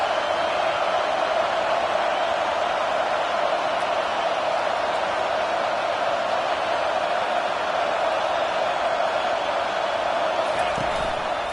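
A home crowd roars at an LSU college football game on third down, a dense, steady wall of stadium noise holding at full loudness from start to finish with no pauses.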